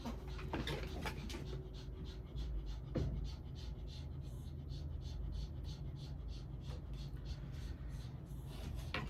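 A dog panting in a warm room, rapid rhythmic breaths repeating steadily in the background, faint and close, with occasional soft snorts.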